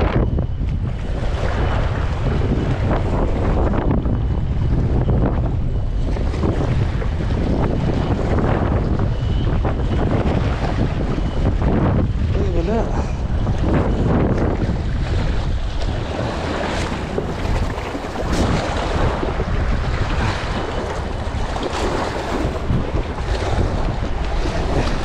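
Strong, steady wind roars across open sea as a small fishing boat heads into it, with continuous buffeting on the microphone and water rushing beneath, unbroken for the whole stretch.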